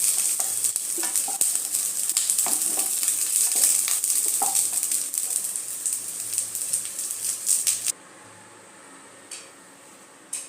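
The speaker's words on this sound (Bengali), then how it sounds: "কপিগুলো দেখুন আমার ভাজা ভাজা হয়ে গেছে হালকা করে" Cauliflower florets sizzle steadily in hot oil in a home kitchen pan, a bright continuous crackle with occasional stirring taps, then dropping to a much quieter hiss near the end as the heat fades.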